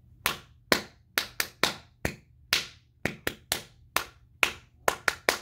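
A single person claps by hand, about fifteen sharp, close claps in an uneven rhythm with short gaps, clear and alone over a faint low hum.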